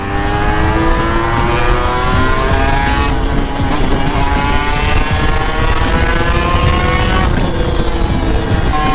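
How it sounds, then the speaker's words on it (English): Small-displacement motorcycles ride fast on a highway, engines droning loud and close with rising and falling whine under steady heavy wind rush and no letup. "This is intense highway riding. On small CC bikes,"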